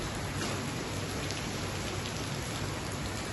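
Steady rain falls during a flood in Punjab, a dense continuous hiss of drops pattering on surfaces, moderately loud and unbroken, with no voices.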